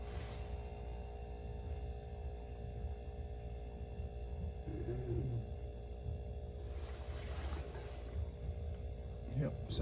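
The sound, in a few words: chest freezer running after being plugged in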